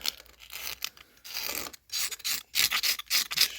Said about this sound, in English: scraping it round, scrape all the crap off